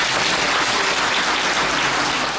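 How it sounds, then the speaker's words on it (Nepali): A church congregation at a Sunday sermon applauds to welcome the preacher, a dense, loud, continuous wash of many hands clapping together with no talking. "उहाँलाई हामी ताली बजाएर स्वागत"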